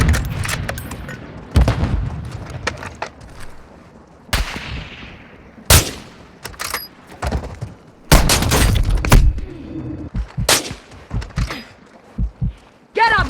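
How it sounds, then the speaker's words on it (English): In Warzone Mobile gameplay, a stun grenade bursts amid sharp, repeated gunshots and booms, loud and close, with heavy impacts scattered across the stretch and game voices calling out between them. "Stun grenade out!"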